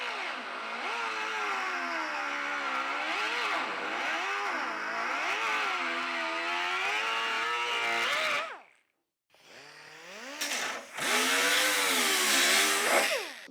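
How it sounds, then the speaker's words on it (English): A carbide burr grinds sharp edges off rusted Porsche fender metal during a MIG weld repair, a loud, close, whining rotary tone that rises and falls in pitch, cuts out briefly and then spins back up. "Here's a carbide burr to take off some of those sharp edges."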